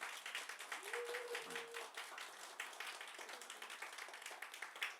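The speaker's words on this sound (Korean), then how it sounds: "우리 환영의 박수를 함께 드리겠습니다." A church congregation in Jeju gives welcoming applause during a Sunday service, a faint, distant patter of many hands clapping steadily throughout, with a brief voice or tone partway through.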